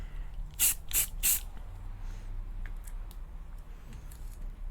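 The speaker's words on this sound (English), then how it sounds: "then another just light spray on top." Spray primer being applied to an art toy, heard as three short, loud hissing bursts in quick succession, followed by quieter faint spritzes over a low background hum.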